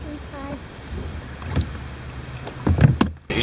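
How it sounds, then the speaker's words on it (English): A kayak paddled on the Yadkin River: paddle strokes splash and slosh against the water, growing louder and choppier toward the end over steady outdoor background noise, with a brief faint voice early on. "we got to do a little paddling here"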